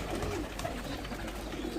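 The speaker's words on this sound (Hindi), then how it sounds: "आपको मैं जरा दिखाता हूँ इधर से कबूतर" Champion pigeons kept in a loft coo in a low, continuous murmur, several birds layered together at moderate volume with no voices over them.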